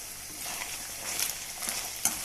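Meat that has been frying for an hour sizzles quietly in a pan, a soft steady crackle with a few faint stirring scrapes and clinks, close but low in level and without speech.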